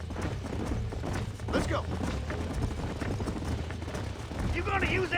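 Horses galloping in the western video game Red Dead Redemption, a rhythmic clip-clop of hooves close by over a low rumble, with someone speaking briefly over it.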